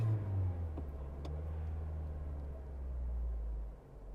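A car engine is given gas while hooked to an OBD2 scanner. It gives a low, steady rumble that swells slightly and then eases off near the end, with no voices.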